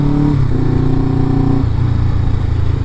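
A Suzuki GS500E motorcycle engine runs close and loud, with a rough mid-pitched drone that shifts pitch in steps as the rider changes revs, with no talk over it.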